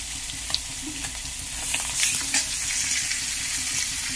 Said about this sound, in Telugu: జీలకర్ర వేద్దాం కొద్దిగా.